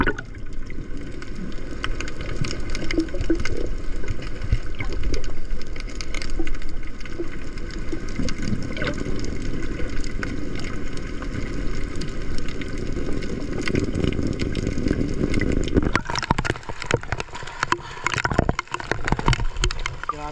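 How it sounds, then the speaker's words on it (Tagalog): Heavy rain pours down at sea while waves wash in, a dense, steady broadband rush filling the whole stretch, with the texture turning choppier and more splashy near the end. "Malakas ng ulan mga kaidol, sinabayan ng alon."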